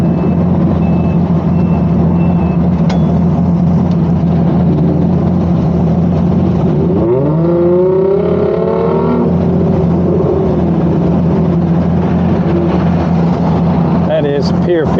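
A car is driven toward a pier area with a steady engine hum and road drone up close, and a rising revving tone partway through; no one speaks.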